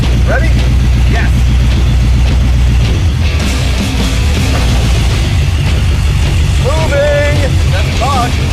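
A 1968 Mustang Mach 1 V8 rescued from a junkyard cranks and fires through a new starting system, settling into a loud, close, throbbing idle before pulling away, with excited voices talking over it.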